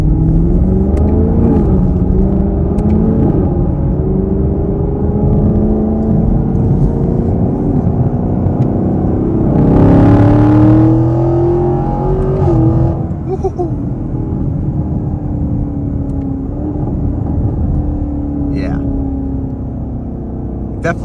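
A Chevy Camaro with the LT1 engine accelerates along a back road, loud close engine rumble climbing and shifting through gears, one sharp revving surge midway, with someone talking over it.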